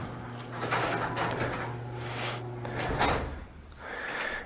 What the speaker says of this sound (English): I have to wait for the garage door to open.